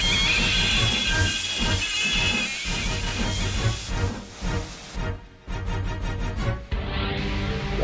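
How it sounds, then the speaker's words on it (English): A steam locomotive with a burst safety valve lets off a loud, steady hiss of escaping steam. After a few seconds the hiss thins out and gives way to music. "You've burst your safety valve, said the driver."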